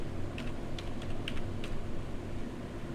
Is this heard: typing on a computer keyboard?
yes